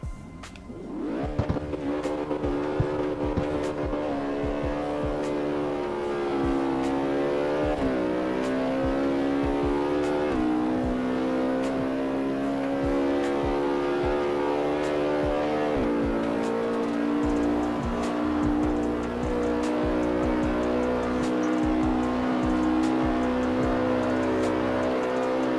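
A car in the CarX Street racing game accelerates hard toward 300 km/h, its engine droning continuously and climbing in pitch through several gear shifts, loud and sustained throughout.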